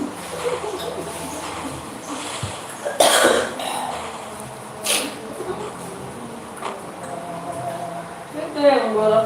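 A man coughs a few times during a livestream of a Free Fire custom room, with harsh bursts breaking up casual background talk and game noise.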